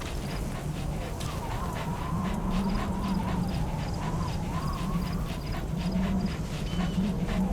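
A dog pants rapidly and steadily in Metal Gear Solid V, with faint whimpers and game ambience underneath. The panting is close and constant.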